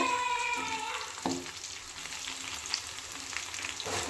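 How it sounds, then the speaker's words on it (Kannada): Garlic kabab pieces fry in hot oil with a steady close sizzle, broken by a brief clunk and an occasional stirring scrape; no talking. "ಇವಾಗ ಇನ್ನೊಂದು ಇಬ್ಬೆ ಹಾಕಿದ್ದೆ, ಅದು ಚೆನ್ನಾಗೆಲ್ಲ ಫ್ರೈ ಆಗ್ತಾ ಇದೆ."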